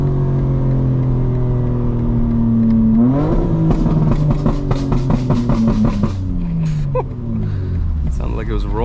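A modified 900 hp 2025 BMW M4 with its exhaust burble mode engaged revs up, the engine note climbing and falling, then a rapid train of crackling pops spits from the exhaust, loud and close.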